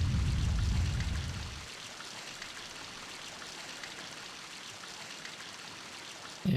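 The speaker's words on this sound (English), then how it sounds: "the spring is undone and the water fills up" Water rushing and filling up as a spring is undone in The Legend of Zelda: The Wind Waker, a loud pouring gush for the first second and a half, then a softer steady trickle of flowing water.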